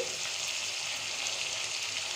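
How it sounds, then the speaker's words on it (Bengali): Steady, even sizzle of garlic and ginger frying in hot oil, a continuous crackling hiss with no voices. "রসুন আর আদাটা মোটামুটি ভাজা ভাজা হয়ে এলে"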